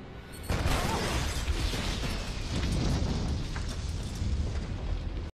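A loud, sustained explosion from the film Man on Fire (2004), a sudden blast followed by a roaring, rumbling wash of debris and fire that fills several seconds without speech.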